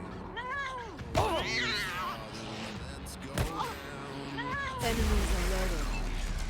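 Cats attacking in the Wasteland 3 video game: several loud yowling meows and caterwauls with sharp hits and thumps, followed by a noisy scuffle near the end.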